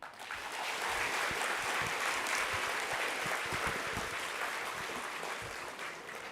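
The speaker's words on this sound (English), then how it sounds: "could you have a big round of applause for him again" A sustained round of audience applause after a university lecture, steady, dense clapping swelling in the first second and holding at a moderate level with no voices on top.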